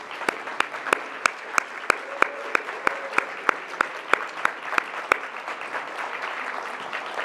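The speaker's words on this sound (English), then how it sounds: "So please join me in a round of applause." Audience giving a round of applause at a Caribbean defense and security conference: steady crowd clapping with a run of sharp, regularly spaced louder claps standing out near the front, then fading to a softer wash of applause.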